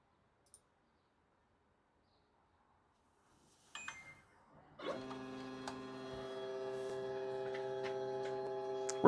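A CNC routing table starts up and cuts Hot Wheels parts with no vacuum running, a steady loud mechanical whine with layered tones and fine clicking that holds after a brief clatter and pause.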